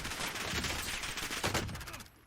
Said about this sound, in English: That's telling you kind of where the direction of that gunfire was.